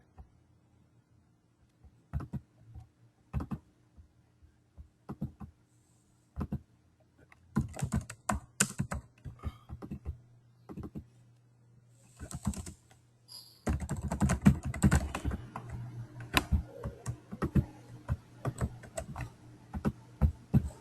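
Computer keyboard typing at a terminal while entering SVN commands: sparse single keystrokes at first, then denser bursts of rapid clicking, close and clear with no talk.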